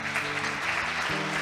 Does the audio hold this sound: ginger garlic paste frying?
no